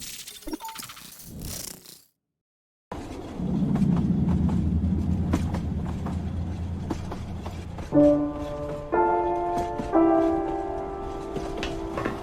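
A train running through a desolate, dark world in a video game, a steady low rumble of rolling wagons after a brief silence, joined later by bright musical tones.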